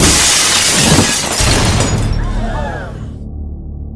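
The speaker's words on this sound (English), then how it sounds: "the Wraith smashes through the skylight of the warehouse" A glass skylight over a warehouse smashes in a loud staged burst, followed by bright tinkling shards scattering and settling as the crash fades out over a few seconds.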